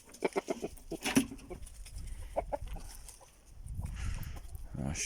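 Several chickens cluck in short bursts early on, followed by softer rustling and low background noise; the clucks are moderately close and uneven.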